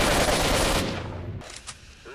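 Gunfire in the video game S.T.A.L.K.E.R.: Shadow of Chernobyl: a dense, loud burst of rapid shots that fills the first second and then fades into quieter echoing tails and scattered softer noises.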